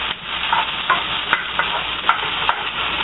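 Onions fry in the cooking video game Order Up, a steady hiss of sizzling with small regular stirring scrapes, even and close, with no talking.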